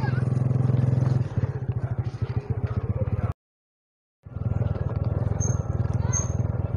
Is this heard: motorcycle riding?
yes